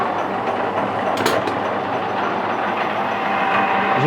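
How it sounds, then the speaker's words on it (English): Change wheels on a lathe whir and rattle steadily as it screw cuts mild steel for a Whitworth thread, a continuous loud mechanical clatter with no talk. "As if you think the change wheels are noisy there, you want to hear them on a higher speed"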